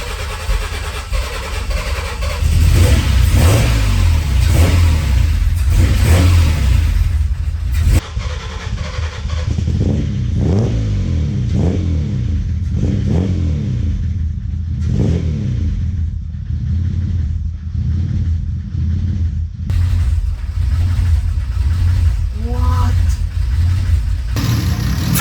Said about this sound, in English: At this point the car had its first start.